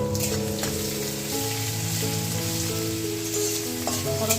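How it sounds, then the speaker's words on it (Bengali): Washed rice frying in a karahi gives a steady, close sizzle that runs continuously, with a sustained tonal backing underneath. "এখন এটা কড়াইয়ে চালটা দিয়ে দেবো"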